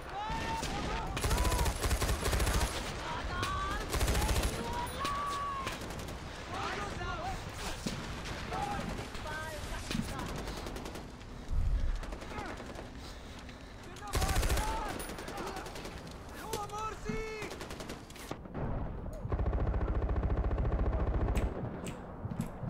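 Mounted turret machine gun fire in the Far Cry 4 video game, loud sustained automatic bursts with heavy booming blasts, broken by short pauses and mixed with other game noise, while a player talks over it.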